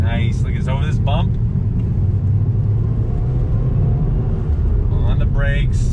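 A 2020 Subaru WRX Performance Package rolls over ripped-up pavement, its steady low road rumble and engine drone running loud throughout beneath someone talking.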